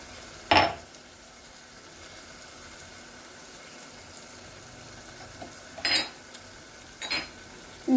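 A utensil scrapes and clinks against a pot where spices and onions fry for mutton soup, with a few sharp stirring knocks over a soft, faint background simmer.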